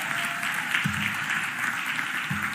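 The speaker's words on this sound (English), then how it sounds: "Give Michael Newmis a round of applause." An audience at a city mayor's budget address applauds. The dense clapping runs continuously at a moderate, slightly distant level, with faint low thumps underneath.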